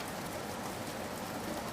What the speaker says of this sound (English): It did rain for a week and a month and a day.